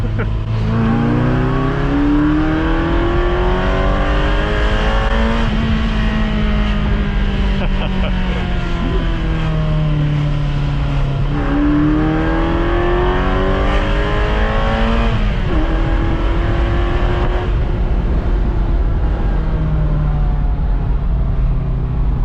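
A loud old Ferrari V8 engine revs repeatedly toward its 7,500 rpm redline, climbing in pitch through the gears then easing off, a continuous roaring drone over about twenty seconds.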